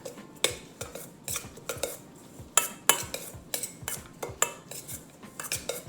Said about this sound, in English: Then I'm gonna mix all this stuff in.